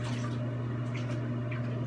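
Tap water running steadily, rinsing soap out of a young girl's hair during a morning bath, a close continuous splashing flow with a faint hum beneath.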